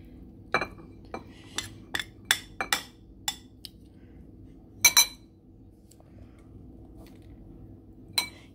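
A spoon clinks against dishes while caramelized onions are served: a dozen or so sharp, bright taps in an irregular rhythm, close and clear, with short pauses between and no talking.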